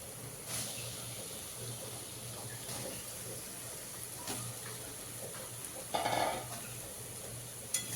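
Fried potatoes are added to a rui posto fish curry in a pan and stirred in. Faint scrapes and clinks of a spoon against the pan come at intervals over a low, quiet bubbling sizzle, with a louder stirring burst near the end.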